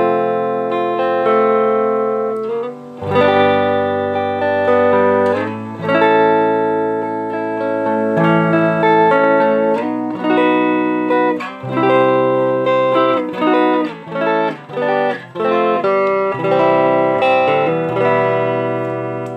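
An electric guitar played on its front pickup through effects, ringing out sustained chords and single notes with a warm, slightly distorted, reverberant tone, loud and continuous with no voices.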